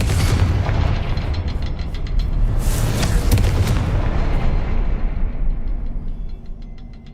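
A Confringo fire spell explodes in Hogwarts Legacy, giving loud, sustained rumbling booms with crackling blasts that hold steady for several seconds before slowly fading out.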